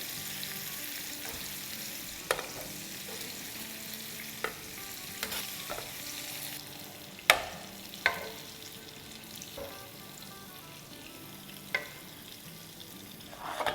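Chicken fries together in a pan for Middle Eastern biryani, giving a steady close sizzle with scattered sharp clinks of a utensil stirring and scraping against the metal.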